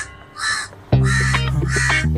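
A crow caws harshly in repeated calls, loud and close, against a steady low background hum.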